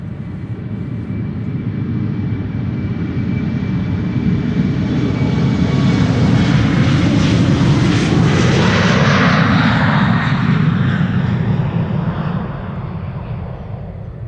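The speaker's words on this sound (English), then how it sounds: "Embraer 190 outbound to Edinburgh, up first" A KLM Embraer 190 jet takes off from Schiphol bound for Edinburgh, its engine roar swelling loud as it passes, with a sweeping pitch shift before fading, alone without voices.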